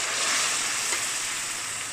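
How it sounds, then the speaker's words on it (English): Hot boiling broth hits mushroom risotto rice in a pan, producing a dense, steady sizzle and bubbling hiss that stays loud and close throughout. "I will add the hot boiling broth"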